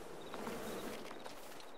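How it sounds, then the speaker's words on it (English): Insects buzz steadily in a Farming Simulator 22 field scene, a soft, continuous droning hum with faint intermittent whines, moderately quiet and unbroken, with no voices. "you're stuck behind the bees"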